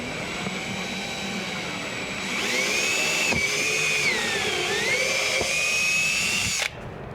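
A power drill whines steadily at close range, its pitch rising and dipping as it bites through a boat's hull, then cutting off abruptly near the end.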